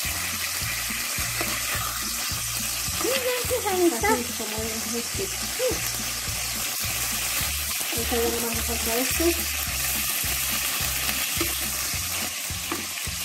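Beef steak rolls fry in a pan with a steady sizzle, interrupted by repeated rhythmic scraping and stirring knocks, while a voice speaks over the cooking.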